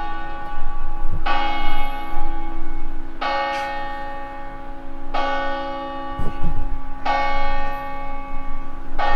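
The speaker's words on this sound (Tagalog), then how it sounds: "Curious siya lagi sa tunog ng kampana." Church bell rung for mass in an Italian town, struck four times at about two-second intervals, each strike ringing with bright overtones that decay slowly over a steady low background hum, fairly close and loud, with no talk.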